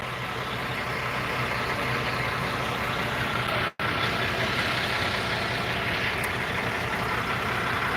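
Military tanks pulling away, their engines producing a steady, loud, close rumble that cuts out for a split second partway through before continuing unchanged.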